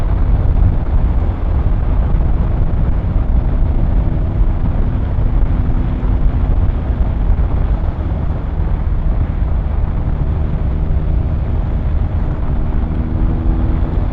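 A BMW R1250R motorcycle on the move: a constant low engine drone buried under heavy wind rush, steady and close for the whole stretch.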